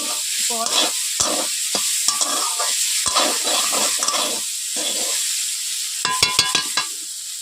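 Potato and eggplant pieces fry together in a pan, sizzling steadily while being stirred, with frequent scraping and clinking of a utensil against the metal throughout.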